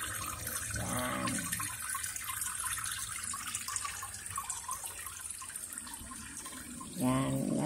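A clear mountain stream flows over piled rocks, a continuous close rush of water with voices speaking over it at the start and again near the end.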